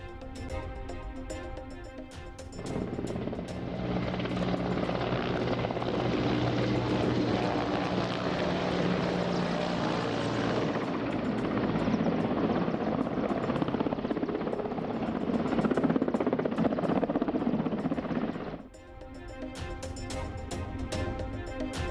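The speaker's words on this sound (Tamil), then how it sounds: "ஜெகதீப் தன்கர் வருகையை முன்னிட்டு ஹெலிகாப்டர் ஒத்திகை." A helicopter flying on a rehearsal run ahead of Vice President Jagdeep Dhankhar's visit, its rotor and engine drone rising in, holding loud and steady for about sixteen seconds, then cutting away.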